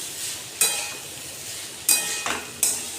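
Fried potato and pointed gourd with black pepper being stirred in a pan, three sharp spatula scrapes against the metal over a soft steady sizzle, close by.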